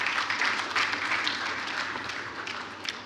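A crowd claps steadily for a few seconds, a dense, even applause with no voices over it.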